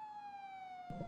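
Police siren in GTA V played on a FiveM server: a steady, sustained electronic wail held alone for about a second, then cut into by a brief burst of louder low noise at the end.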